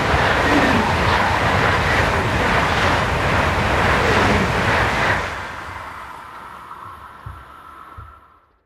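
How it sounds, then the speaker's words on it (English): A German ICE high-speed train rushes past on a busy main line, a loud close roar with rhythmic wheel clatter for about five seconds, then fading away into the distance with a few faint thumps. "The line is busy with ICE train sets, with 4 trains per hour as well as a small number of local-hauled intercity expresses."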